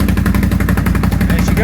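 Engine firing up, a rapid loud staccato of combustion pulses starting at once and running steadily, close and harsh for under two seconds.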